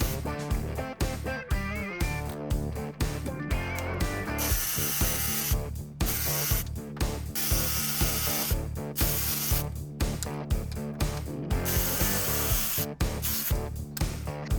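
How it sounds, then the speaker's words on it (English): A jigsaw cuts waste out of a wooden project piece, a dense buzzing whine that runs in steady bursts with brief pauses between cuts, loud and close throughout. "You could do it with the jigsaw like I'm doing"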